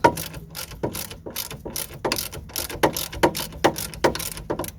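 A socket ratchet with a 17mm socket loosening nuts on a Land Rover Freelander rear anti-roll bar drop link gives a steady run of sharp, close clicking pawl strokes in an even rhythm, with no voices.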